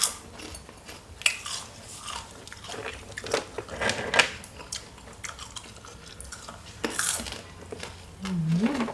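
Crisp crunching bites into deep-fried sugarcane beetle larvae, a string of close, sharp crackles and chewing over about nine seconds, with light clinks of utensils and dishes.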